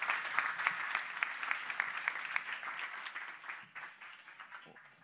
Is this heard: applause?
yes